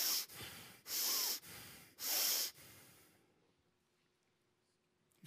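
A person imitates heavy, enraged breathing: three long, loud, forceful breaths through the nose, close up, followed by quiet.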